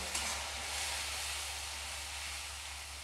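Fish curry masala with tomato puree sautéing in a pan, a continuous faint hissing sizzle with a low steady hum beneath, no talking.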